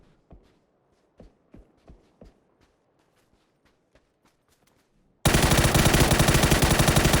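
M4 rifle fire in PUBG, several sharp, fairly close shots in short bursts during the first seconds, spaced out and then trailing off to faint pops before a loud, dense burst of noise takes over the end.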